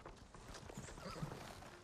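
Horse hooves clip-clop steadily in Ghost of Tsushima, a continuous patter of game-world hoofbeats with a faint whinny and ambient background, no talk over it.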